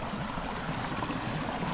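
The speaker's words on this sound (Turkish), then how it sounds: "Görüyorsunuz değil mi? Dere nasıl akıyor." A stream flows through a snowy countryside near Sinanpaşa in Afyonkarahisar, giving a constant, moderate rushing and gurgling wash of water with no voices over it.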